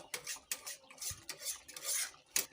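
A spoon scrapes and clanks around a pot of mutton curry in a series of quick stirring strokes, with a lower thump partway through and a sharp final scrape, close and fairly clear with no voices.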